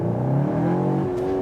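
Cupra Formentor engine revving with synthetic engine sound in Cupra drive mode, a loud steady harmonic drone rising slightly in pitch, close and continuous with no talk.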